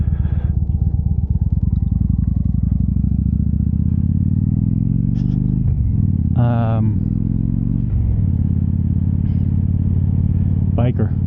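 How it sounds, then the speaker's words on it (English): A motorcycle approaches along a road, heard as a loud, steady engine drone whose pitch shifts and sweeps as it nears, with brief bursts of talking over it. "Biker coming."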